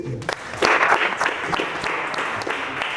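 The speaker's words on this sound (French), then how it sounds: "On peut l'applaudir?" Audience applause at an improvisation show, a burst of clapping rising after a brief lead-in and holding steady, fairly close and filling the room.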